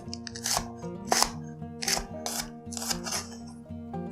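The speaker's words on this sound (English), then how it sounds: "First chili, just slices diagonal." A knife cuts a green chili diagonally on a cutting board, giving about six crisp, evenly spaced chopping taps over soft background music.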